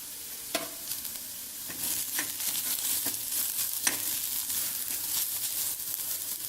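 Chopped green chilies saute for chicken biryani, a steady soft sizzle with scattered sharp scrapes and taps of a spatula against the pan, close and moderately quiet, no voices.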